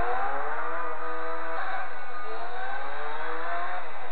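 A Gran Turismo 4 race car engine drones in a steady high whine, rising and falling slightly as it revs, loud and continuous with a voice faintly under it.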